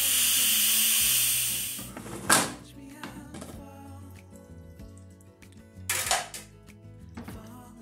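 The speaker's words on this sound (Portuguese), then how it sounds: "vou retirar a pressão da panela" A pressure cooker lets out a loud, rushing hiss of steam for about two seconds as its pressure is released, then stops, followed by clattering of a pot and utensils.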